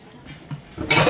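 A metal pot lid clatters onto a pan on the stove while steak, onions, green beans and buttered noodles cook, a short bright clank rising at the end above low kitchen noise.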